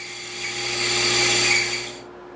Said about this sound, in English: Since I have my own bandsaw, I can save a lot of time and money by preparing my own fretboard blanks. And here I'm resawing one.